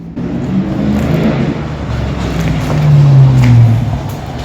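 Toyota 4.7 V8 with a full 3-inch straight pipe exhaust driving past, a loud, deep engine drone that swells as it accelerates toward the end.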